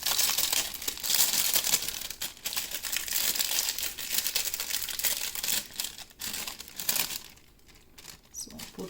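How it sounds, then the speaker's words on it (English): Plastic bag crinkling steadily and close as a Japanese cherry blossom soap is slipped inside for packing, a continuous rustle that thins out near the end. "So I put it in the bag."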